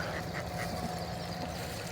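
Faint, distant honking of geese comes through a steady background hiss, a few scattered calls rather than a loud chorus.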